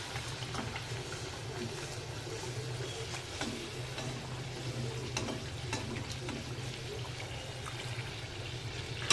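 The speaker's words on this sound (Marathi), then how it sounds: "वडा वडावरती आला की त्याच्यावरती झाऱ्याने तेल उडवायचं म्हणजे तो चांगला टम्म फुगतो" A kombadi vada fries in hot oil over medium heat while a slotted spoon splashes oil over it, giving a soft steady sizzle with faint intermittent sloshes and scrapes.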